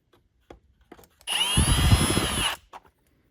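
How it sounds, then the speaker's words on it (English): A power drill drives larger screws into a Dirt Devil Endura Max vacuum during a clog repair: a few faint clicks, then one steady, close whirring burst of about a second and a half that stops abruptly. "All I'm going to do here is just put the larger screws in."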